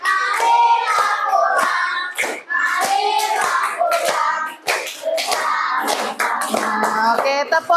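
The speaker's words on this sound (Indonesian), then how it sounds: "tepuk tangan" Third-grade children in a classroom clap their hands together in bursts of sharp, loud, rhythmic claps, with children's voices chanting and singing between and over the claps.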